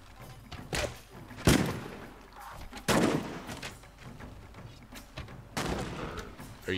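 A gunfire volley in Mount & Blade: Warband: several sharp cracks and thuds come in uneven bursts, with loud reports separated by quieter gaps.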